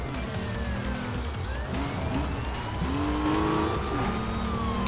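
Engine roar from a car racing in the video game Need for Speed Rivals during a hot pursuit, a continuous revving drone with pitch sweeps from shifting and acceleration, plus faint siren-like tones in the mix.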